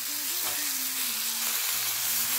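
Vegetables and green peas are stirred in a sizzling pan for Bengali gota seddho over a low gas flame, with a steady, close frying hiss throughout and a faint low hum underneath.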